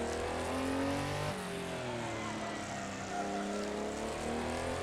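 A 1973 Porsche 911 RSR Group 6 race car at the Targa Florio in Assetto Corsa, its flat-six engine droning steadily and loud with shifting revs and a brief dip, no talk.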